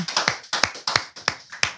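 Hands clap in a talk show studio in a steady rhythmic beat of about six sharp, close claps in unison, with no speech over them.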